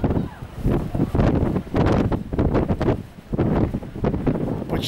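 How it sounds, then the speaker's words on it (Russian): Strong gusts of wind whip dust around the open volcanic ground near Mount Teide on Tenerife, roaring in loud surges against the microphone, with someone speaking over the buffeting. "очень сильно сейчас только что подул ветер здесь"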